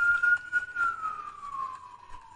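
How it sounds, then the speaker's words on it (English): A police siren sound effect wails in a single long, falling tone with a faint warble, fairly loud and alone, with no voices. "The sirens are blaring for the everlasting war."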